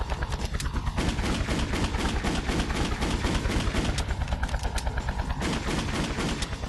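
Sustained rapid automatic gunfire in the video game Just Cause, dense and loud throughout, with overlapping bursts forming an unbroken barrage.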